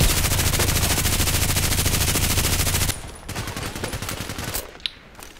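RPKT machine gun fired in the online shooter Contract Wars, loud rapid automatic bursts pounding continuously for several seconds, then a brief pause and a more distant, quieter stretch of gunfire with a late sharp crack.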